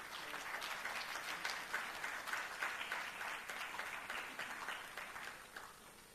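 A room full of young parliamentarians applauds steadily after the United Kingdom's statement at a parliamentary meeting, a dense, even patter of many hands that holds for several seconds and sounds fairly soft and distant, with no talking over it.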